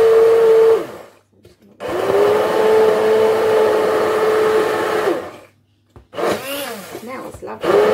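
A blender whizzes mushroom sauce with vinegar in loud, close bursts, a steady high motor whine running for several seconds, pausing, then resuming, with brief talk during the gap.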